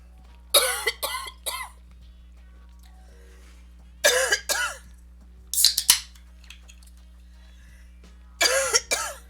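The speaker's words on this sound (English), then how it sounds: "I feel a coughing spurt." Bursts of hard coughing come in several separate fits, each a quick cluster of loud, close coughs with quiet pauses between them.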